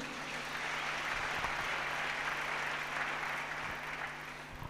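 A church congregation applauding, a steady wash of many hands clapping together for several seconds, moderately loud and evenly sustained before tapering slightly at the end.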